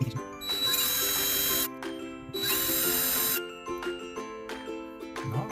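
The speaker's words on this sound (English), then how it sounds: "we are going to take our number 51 drill bit, and we are going to drill some pilot holes for our" A small power drill with a number 51 bit bores pilot holes in a diecast model car body, giving two sustained high whining bursts separated by short pauses, close and loud, followed by lighter clicking handling noises.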